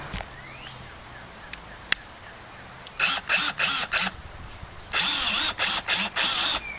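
A power drill whirs in four short bursts, pauses, then runs in another longer series of bursts as a screw is driven in, fairly close.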